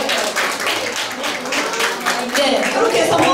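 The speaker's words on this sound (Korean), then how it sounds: "성공하신 분께 박수 한번 보내주시겠습니다" Applause from a small group of participants at a play-based group counseling session, a steady crackle of clapping that runs throughout the clip while people talk over it.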